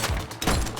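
Gunfire from the video game The Precinct: a short, close burst of several overlapping shots with heavy low thumps, crowding into a brief rapid volley.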